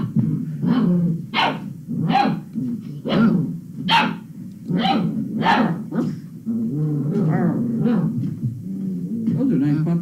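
Puppies bark repeatedly in short, evenly spaced yaps through the first half, then quieter whimpers and small growls continue near the microphone.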